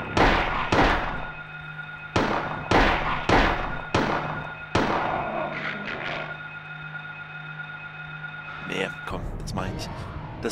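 Gunshots in the Silent Hill video game: several loud, sharp single shots spaced about a second apart with a steady hum underneath, then a quieter stretch, with a voice speaking.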